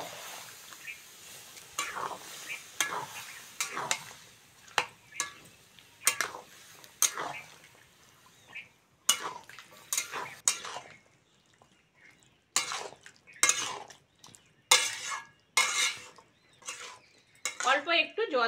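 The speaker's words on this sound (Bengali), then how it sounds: "এবার সিদ্ধ করে রাখা কাবলি ছোলা জল সমেত দিয়ে দেবো।" Boiled chickpeas tipped into a pan along with their cooking water for a chickpea curry, then stirred, giving a string of close, sharp metallic scrapes and clinks of a spoon against the pan, spaced irregularly with brief quiet pauses between.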